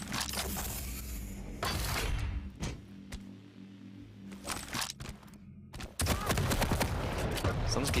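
Gunfire from a machine gun in a Quake deathmatch duel, heard as bursts of rapid impacts and shots amid game effects, with quieter gaps between loud stretches.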